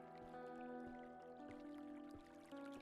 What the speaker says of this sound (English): I fucking love the sound of water